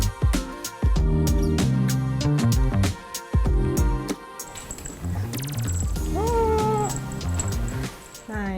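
Andrew the cat gives a short meow near the end over loud ongoing music, which dominates the scene.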